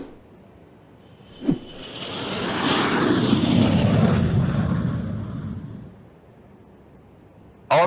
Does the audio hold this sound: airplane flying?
yes